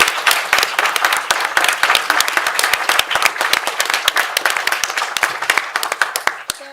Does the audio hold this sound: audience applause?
yes